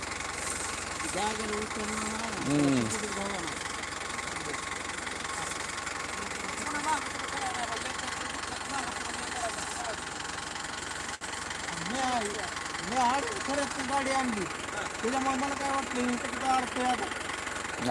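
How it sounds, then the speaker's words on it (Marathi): A tractor engine strains at mid pitch while a second tractor tries to tow a sugarcane tractor stuck in a field, running steadily throughout with people talking over it. "ट्रॅक्टर फसलेला आहे दुसऱ्या ट्रॅक्टरच्या सहाय्याने ट्रॅक्टर वडायचा प्रयत्न चालू केलेला आहे"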